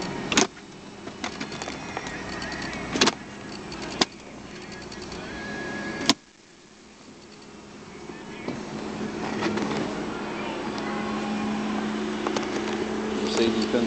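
Power windows hum as they close on a 2006 Mercedes-Benz SLK 280 convertible, a steady electric motor whine running several seconds after a few sharp clicks, with someone talking over it.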